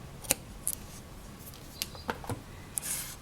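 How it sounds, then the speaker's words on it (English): Scissors snipping the cord tail on a handmade polymer clay moonstone earring, a few short crisp cuts spread across a quiet moment, close and fairly soft. "you can trim away the cord"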